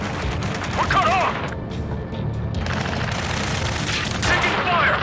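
Gunfire and explosions in the Ace Combat 7 combat game, with dense rattling bursts and booms running throughout and shouted voices over the top.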